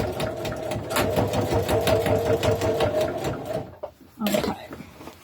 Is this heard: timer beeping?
no